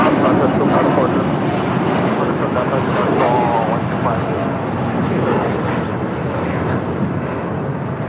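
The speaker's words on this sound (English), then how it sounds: "This is All Nippon Airways Flight 125 departing to Tokyo, Haneda, the 787-8 Dreamliner" An All Nippon Airways Boeing 787-8 Dreamliner, Flight 125 to Tokyo Haneda, departs under SoCal departure control with a loud, steady jet roar that fills the scene from start to finish, while faint voices murmur beneath it.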